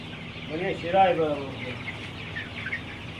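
Young chicks of an egg-laying breed raised on a small poultry farm give soft clucks and peeps, with a brief louder burst early on against steady background noise.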